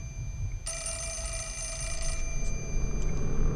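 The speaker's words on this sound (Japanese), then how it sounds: "あったよ電話。" A telephone rings in the horror video game Fatal Frame: Mask of the Lunar Eclipse, a single bright electronic ring lasting over a second against low rumbling ambience, followed by faint tonal echoes.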